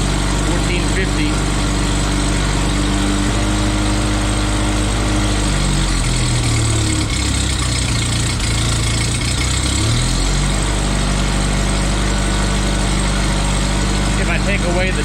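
A small engine holds a high idle of around 1400 rpm on half choke, droning loud and continuous before its pitch sags for a few seconds midway and then recovers to a steady run.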